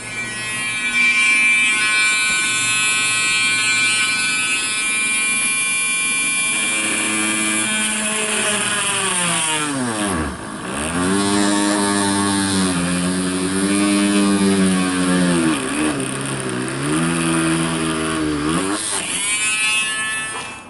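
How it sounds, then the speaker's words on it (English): An electric drill runs continuously, drilling a hole in the garden for planting cabbages. A steady high whine at first gives way to deeper, wavering motor pitch as the bit bites and slows, then speeds up again, all close and loud. "my electric drill is working now"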